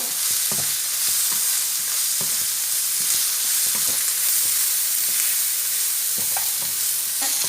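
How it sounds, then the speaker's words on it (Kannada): Ginger and garlic sizzle steadily in hot oil in a pan while a spoon stirs and scrapes at irregular intervals, close and continuous. "ಈಗ ಹಸಿ ವಾಸನೆ ಹೋಗೋ ತನಕ ಚೆನ್ನಾಗಿ ಫ್ರೈ ಮಾಡುವ"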